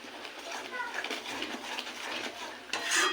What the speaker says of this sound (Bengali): এটাকে নাড়বো